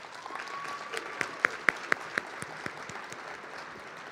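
An audience at a girls and women in sports luncheon applauds in a moderate, scattered round, with a few sharp, close claps standing out midway before the clapping thins.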